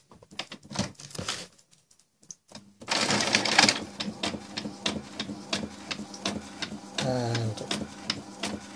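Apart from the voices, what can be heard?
printer printing a shipping label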